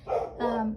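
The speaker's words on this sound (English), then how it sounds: "Sorry, excuse the dogs." Indoor house dogs bark nearby, two quick, fairly close barks in rapid succession, with no speech over them.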